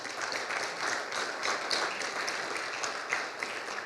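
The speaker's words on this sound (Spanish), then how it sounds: "Démosle un fuerte aplauso." A church congregation applauds steadily, a dense patter of many hands clapping at once without a break.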